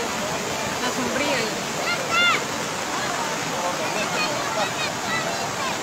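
A swollen creek rushes in a steady broadband roar at Agua Blanca Sur near La Ceiba, Honduras, during Hurricane Iota, with faint voices audible over the churning water.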